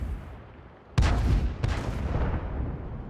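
A tank cannon shot in the World of Tanks video game: a sudden loud boom with a long rumbling tail, followed half a second later by a second blast.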